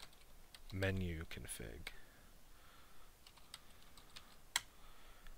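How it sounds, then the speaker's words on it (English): Keystrokes on a computer keyboard entering a command in a terminal while configuring OpenWRT firmware, a few close clicks following a short stretch of talk, with a sharper tap near the end. "We're going to type make"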